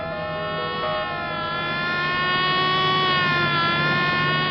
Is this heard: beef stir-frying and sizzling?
no